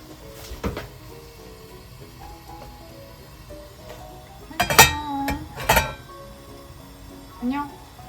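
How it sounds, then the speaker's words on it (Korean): Metal clanks and rattles as a pot is jostled, two louder bursts of clatter standing out over quiet room noise and occasional voices. "냄비를 이상하게 흔들고 있다."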